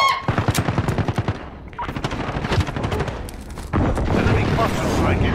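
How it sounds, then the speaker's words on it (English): Intense Call of Duty battle during an enemy precision airstrike: rapid bursts of machine-gun fire and heavy booms pile into a loud, continuous barrage, with voices talking over the combat. "Enemy precision airstrike inbound."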